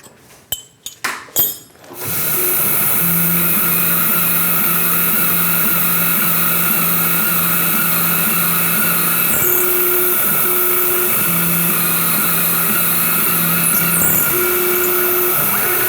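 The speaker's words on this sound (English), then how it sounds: "This drill is going to break through, so I am going to go ahead and torque it by hand." A few sharp clicks, then a drill motor whirs steadily and loudly for a long stretch, with slight pitch shifts as it bores through metal.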